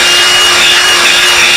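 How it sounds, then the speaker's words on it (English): Carbide burr grinding corroded metal on a Case 60XT skid steer part, a loud, steady high-pitched abrasive whine that holds constant for the whole stretch with no talking. "Just use a carbide burr to clean this up."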